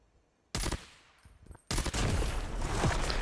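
Mythic weapon elimination effect from a video game: a sudden loud burst after near silence, a short quieter gap with faint tones, then a dense, sustained crackling blast of firing-like sound.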